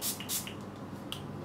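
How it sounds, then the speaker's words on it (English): Makeup setting spray misted from a bottle nearby, two quick soft hissing puffs at the start and a fainter one later, otherwise quiet. "I'm going to spray some setting spray on this."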